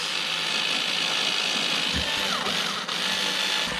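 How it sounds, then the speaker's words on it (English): A power drill whirs steadily at close range, its motor pitch dipping briefly as the bit bites into a model airplane, drilling servo pockets. "So we're going to drill those 4 pockets."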